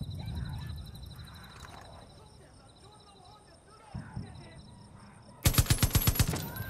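A machine gun fires in Far Cry 5's Hours of Darkness add-on, a close, loud rapid burst of evenly spaced shots near the end, after quieter scattered game sounds.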